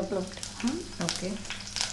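Curry leaves frying in hot oil in a pot crackle and sizzle briefly and close up, under a voice speaking.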